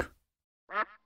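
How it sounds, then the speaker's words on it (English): A single duck quack sounds once, short and fairly close, after a brief burst of other noise and a moment of silence. "Duck."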